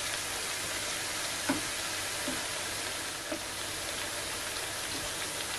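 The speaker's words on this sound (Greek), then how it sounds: "Αφαίνουμε να τηγανιστούν περίπου για 4 με 5 λεπτά." Sliced zucchini frying in hot oil in a pan, with no batter, giving a steady, dense sizzle and crackle and a few faint soft clicks. No one speaks.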